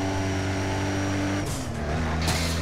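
A heavy truck, apparently loaded with cargo, passes by on a village road. Its low, droning engine hum is steady at first, then shifts pitch as it goes past, with a hiss of air and rushing noise near the end.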